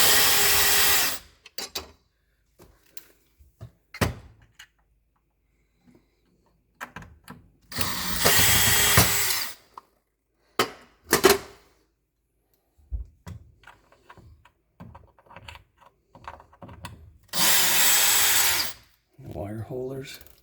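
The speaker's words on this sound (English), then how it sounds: "this light comes out just by unscrewing a couple screws." A power drill unscrews screws from a Feit Electric under-cabinet kitchen light, several short close whirring bursts separated by pauses, with talk in between.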